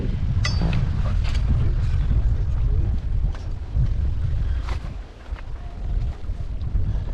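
Strong wind buffets the microphone continuously aboard a sailboat off Sailors Cutting in northwesterly weather, a loud, roaring, gusting rush with faint water and rigging noise underneath.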